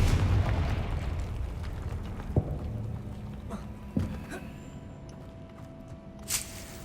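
Confringo fire spell explosions in the Hogwarts Legacy video game, with a burst at the start, two sharp blasts midway and a smaller pop near the end, each fading into a lingering rumble and tone.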